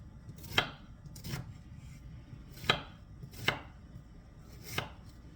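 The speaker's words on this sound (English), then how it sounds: "chopping my onion up while I talk to you." A knife chops an onion on a cutting board in five distinct strikes, irregularly spaced, each a crisp close thud with a sharp edge, against a quiet room.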